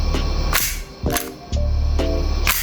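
Glock 19 BB pistol being cleared, its mechanism giving several sharp metallic clicks and clacks spaced across a couple of seconds, close and loud against a low steady background hum.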